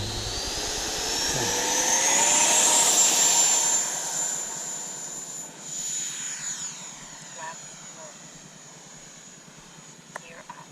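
A Freewing F/A-18C Hornet 90mm electric ducted-fan RC jet flies past with a loud rising whine that swells, peaks, then fades into the distance, and a quieter whoosh follows, with faint voices nearby.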